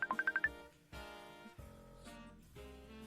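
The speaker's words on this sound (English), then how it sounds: "I don't recognise the ringtone." Incoming Messenger call ringtone during a creative livestream, a rapid run of six bright electronic beeps followed by sustained melodic tones that swell and fade in several phrases, fairly faint and alone without speech.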